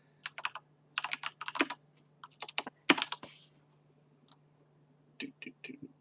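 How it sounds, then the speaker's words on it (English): Mechanical keyboard keys clacking in quick bursts of sharp clicks with short pauses between runs, close and fairly loud over a low steady hum, no talk. "mechanical keyboards."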